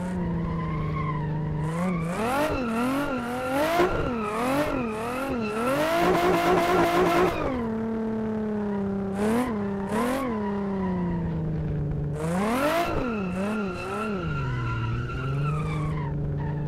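A Nissan 350Z drifts sideways along a road in Assetto Corsa, its engine revving and wavering loudly up and down as the tires squeal through repeated slides and gear changes.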